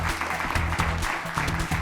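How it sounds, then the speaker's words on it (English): A short burst of applause for junior quiz bowl teams, clapping close and moderately loud over a faint room hum. "let's give them a round of applause for that"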